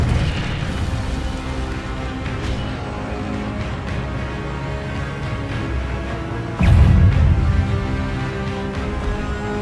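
A deep whooshing boom from an Incendio fire spell in Hogwarts Legacy erupts loudly and close midway, rising above a constant rumbling background of game ambience.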